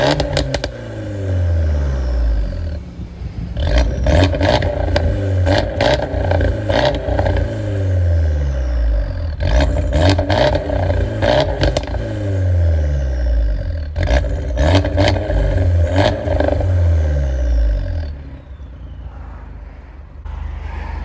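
A sports car with a Ragazone valved exhaust system revs hard several times in a row, each blip swelling to a loud roar and falling back, with crackly rumbles between.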